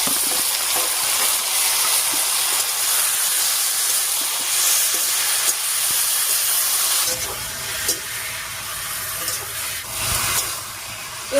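Kochu shak greens drop into hot oil with frying onion, garlic and chilli, setting off a loud, continuous sizzling hiss with a burst of sharper crackles partway through as the wet leaves hit the pan.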